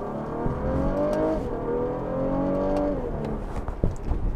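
A 2016 Cadillac CT6 accelerating, its engine note rising steadily through the gears with a brief dip around a shift, loud and continuous from inside the cabin, no talking.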